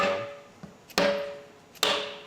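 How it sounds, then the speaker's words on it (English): Metal face of a rubber mallet striking a part on an old Ferguson TO-30 tractor, three sharp ringing blows spaced about a second apart, close and loud with a fading metallic ring after each. "I'm using the not rubber side of the rubber hammer"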